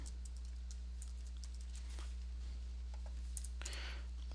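Scattered soft keyboard clicks while a file name is typed into a save dialog in Excel, faint and irregular over a steady low hum.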